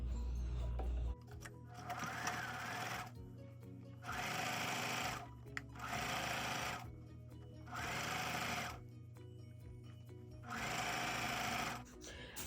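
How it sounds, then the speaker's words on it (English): A sewing machine stitches stretch fabric for socks in loud bursts of rapid mechanical whirring, about five runs of one to two seconds each. Short quiet pauses fall between the runs, and a low hum sits underneath throughout. "I'm going to go ahead and stitch all the way around. All the way around. So it's just stretch and sew."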